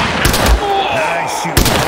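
Bursts of video-game gunfire in a World War II battle on the Rhine River, with loud sharp reports at the start and a second burst near the end, a voice calling out between the shots.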